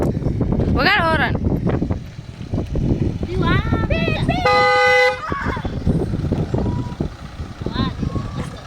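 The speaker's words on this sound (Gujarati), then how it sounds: "વગાડ હોરન" Amid chatter from a comedy film crew in a village, a car horn sounds once in a loud, sustained blast of under a second, with voices continuing before and after.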